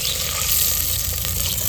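Buttermilk poured into a pan of stuffed gunda curry: loud, close, continuous sizzling and bubbling frying noise that holds steady throughout, with no voices.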